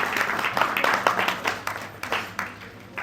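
Crowd applause at a Miss Yoga Uttar Pradesh pageant event, a dense steady clapping that swells in bursts over about three seconds, with some voices mixed in.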